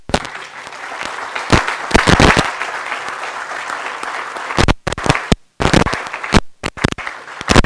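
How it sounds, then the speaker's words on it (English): An audience at the ground blessing for the new UH West O`ahu campus claps loudly, in uneven bursts of applause with sharp individual claps and brief gaps. "Let's give them a round of applause."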